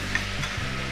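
Sliced onions fry in a pot as garlic-ginger paste is stirred in for Nali biryani, a soft sizzle with a brief scrape of stirring over a low steady kitchen hum.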